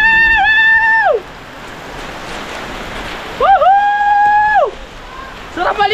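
Rain falling in a steady hiss, broken twice by loud, drawn-out tonal wails, with a short burst of sound near the end.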